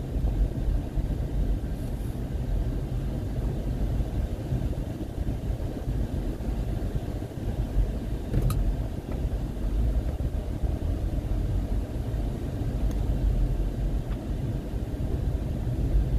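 Steady engine and road rumble from a car driving on a road in The Gambia, continuous and fairly loud from inside the vehicle, with no talk.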